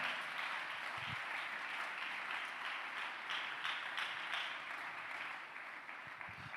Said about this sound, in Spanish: Alguien que dé un aplauso al Señor en esta hora.